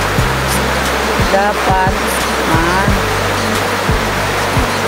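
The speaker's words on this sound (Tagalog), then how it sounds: "Lakas po ng ulan mga kalima." Heavy rain pours in a loud, dense, steady roar around a small house, with a voice speaking briefly over it.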